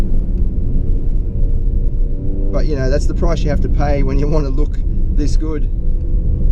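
A 2016 Jaguar F-PACE S 35t accelerating in third gear, its engine a steady low rumble heard from inside the cabin, with someone talking over it for much of the time.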